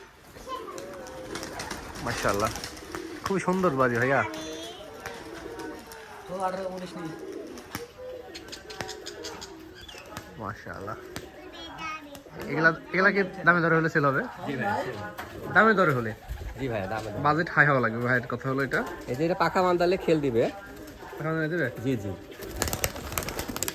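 Pigeons at a pigeon farm for high-flying contest birds coo repeatedly in overlapping, rhythmic bursts close by, while someone talks intermittently among them.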